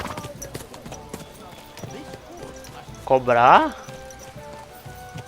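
Horse hooves clip-clop in steady rhythm in the video game Kingdom Come: Deliverance 2, a soft repeated clatter under someone speaking, with a horse's brief loud whinny partway through.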